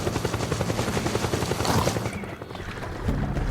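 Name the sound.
helicopter in video game Metal Gear Solid 4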